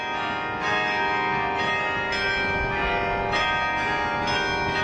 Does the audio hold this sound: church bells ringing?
yes